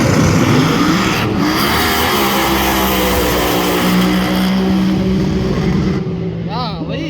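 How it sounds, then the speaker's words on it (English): A fuel altered drag racing car at a night drag event pulls in, its loud engine roaring steadily and close throughout, with the pitch shifting. People talk over it, and the engine drops away near the end. "these things are loud"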